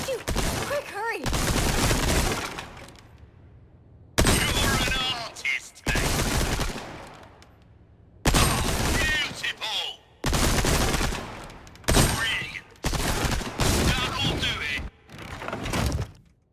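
Rapid bursts of gunfire crack at a Resident Evil 4 Remake shooting range, loud clusters of shots broken by short pauses, with a voice talking between the volleys.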